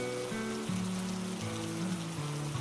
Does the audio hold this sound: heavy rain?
yes